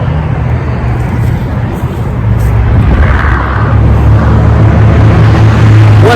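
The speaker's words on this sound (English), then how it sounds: "I hope you can hear me over all this traffic noise." Steady city traffic in Charlottesville with cars and buses rumbling past continuously, a loud, close roadway wash filling the whole stretch with no break.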